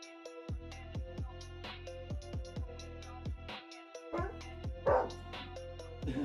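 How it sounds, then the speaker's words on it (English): A beagle barks and yips in a rapid series of sharp, close calls, with a few whimpering notes mixed in and brief pauses between bursts. "Can you guys see my beagle?"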